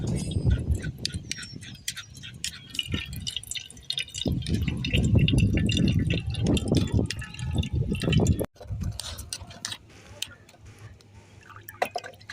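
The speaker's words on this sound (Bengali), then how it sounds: "এটা আমি ছেঁকে নেব ছাঁকনি দিয়ে।" Watermelon pulp juice strains through a sieve, with close, irregular dripping and trickling of liquid alongside handling clatter and a sharp pause midway, continuing at a lower level afterward.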